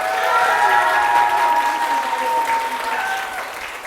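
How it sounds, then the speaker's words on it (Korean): A hall audience at a talk-concert event gives dense, steady applause that holds for several seconds, then tapers slightly, with faint voices mixed in. "큰 박수 한번 부탁드리겠습니다"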